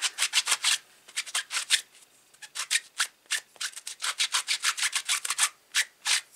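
A stamp set is rubbed clean of permanent ink in quick, rhythmic strokes, close up, each a short dry swish in steady bursts with brief pauses and no talking.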